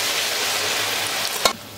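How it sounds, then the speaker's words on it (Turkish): Tomatoes frying in a little oil in a pot, a dense, even hiss of sizzling heard up close, ending with a couple of sharp knocks of a utensil. "Birazcık yağda domatesleri hafif kavuracağım."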